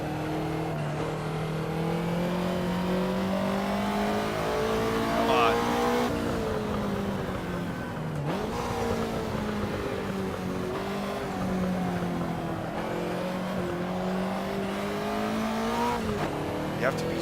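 Ferrari 288 GTO engine at racing speed in Assetto Corsa, a loud continuous roar that climbs in pitch through the gears with brief dips at shifts, sustained throughout.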